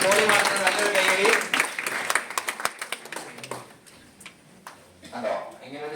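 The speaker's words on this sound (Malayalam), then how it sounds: "നല്ലൊരു കൈയടി" Audience at a sales programme giving a round of applause, scattered claps rising briefly over a speaking voice, then thinning to a few isolated hand claps as talk continues.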